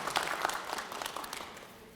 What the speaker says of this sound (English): All right, let's clap for them.